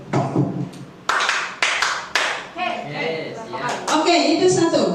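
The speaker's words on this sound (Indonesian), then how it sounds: "Bapak dan Ibu semuanya itu akan melakukan tepuk seperti ini ya." A few sharp hand claps given as a demonstration for a group of adults, spaced irregularly and mixed with ongoing nearby speech and voices.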